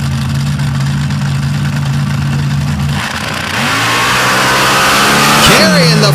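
Supercharged 521 cubic inch screw-blown Hemi engine in a rear-engine paddle-tire dragster at a drag racing event, a loud rough idle that swells into a rising full-throttle roar, with an announcer talking over it.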